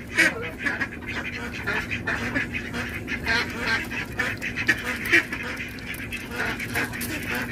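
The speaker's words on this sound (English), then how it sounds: "These geese are like vacuum cleaners." A flock of geese feeds on scattered food close by, giving a steady stream of busy honks and chattering calls mixed with pecking and background noise.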